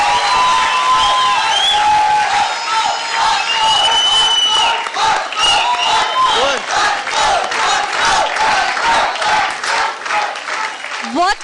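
A television dance-show studio audience bursts into loud, sustained applause and cheering after a couple's performance, dense clapping with whoops and shouts throughout, and a voice near the end.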